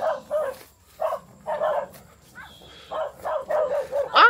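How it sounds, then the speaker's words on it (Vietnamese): A fierce guard dog barks repeatedly in bursts at a rural Vietnamese home, fairly near, with the barking spread across the whole stretch and a sharper yelp at the end; people may speak faintly nearby. "Chó ác lắm."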